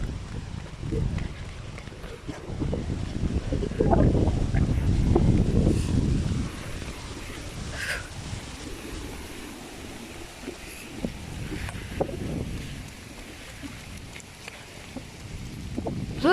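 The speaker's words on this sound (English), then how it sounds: "Look at that wind." Strong gusting wind, around 40 mph during a storm-chasing wind advisory, roars and buffets the microphone, loudest in the first few seconds and then easing to a steadier rush, with people talking over it.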